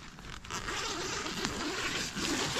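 A tent door zipper being pulled open, a continuous rasping zip running close and fairly loud for a couple of seconds, with a brief catch near the start.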